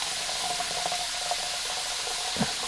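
A thin stream of filtered water runs steadily into a container, with light splashes and a brief clunk near the end.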